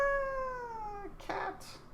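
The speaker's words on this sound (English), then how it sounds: "Ah, cat." Cat meowing indoors, one drawn-out meow fading out, followed by brief rustling and a quick soft chirp, fairly quiet and close.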